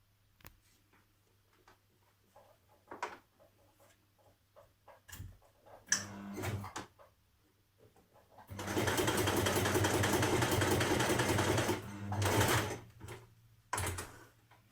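A sewing machine stitches red cotton fabric with a fresh sharp needle, starting with scattered clicks and short bursts, then running in a steady loud whirring stretch of several seconds before stopping and giving a last short run.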